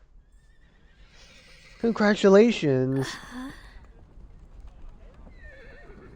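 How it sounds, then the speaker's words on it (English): Dozens of horses neighing and whinnying at once in the video game Reverse: 1999, a loud burst of overlapping calls lasting about a second, then a second shorter cry, with spoken voices before and after. "The sound of dozens of horses neighing at once echoes from somewhere far away."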